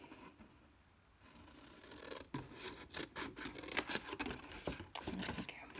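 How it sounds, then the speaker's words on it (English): Paper being cut with scissors while making a tall gift bag, a run of crisp rasping snips and slicing strokes after a quiet start, close and steady. "And I'm going to cut up these lines as well."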